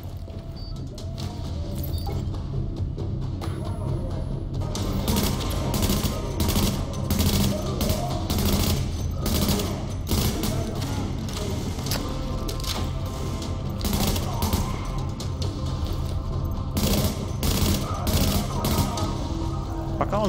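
Rapid bursts of gunfire from Tom Clancy's The Division beta, sharp repeated shots in quick clusters over a steady game background, starting after a quieter opening few seconds.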